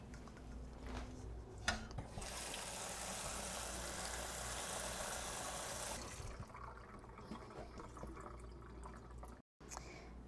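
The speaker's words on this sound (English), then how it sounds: "we're going to wash our cucumbers." Cucumbers being washed under a running tap, a steady hiss of flowing water for several seconds with a few faint knocks, quiet and without voices.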